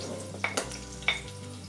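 Ginger dropped into hot ghee sizzles steadily while a utensil scrapes and clinks against the pan in a few brief knocks, with no talking.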